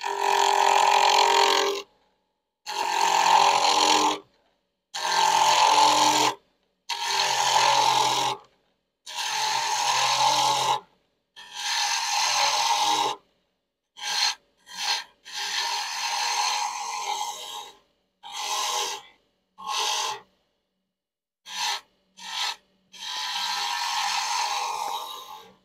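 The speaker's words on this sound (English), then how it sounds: "flip the lathe on, get our rough and gouge" A wood lathe spins as a roughing gouge bites into the blank, giving repeated loud scraping, chattering cuts in separate passes that grow shorter and choppier toward the end, close and clear.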